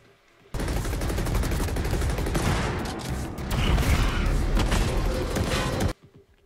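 Rapid gunfire from The Ascent, a twin-stick shooter armed with pistols, shotguns, submachine guns, assault rifles and grenades, as a dense, loud barrage of overlapping shots and impacts runs for about five seconds before cutting to silence.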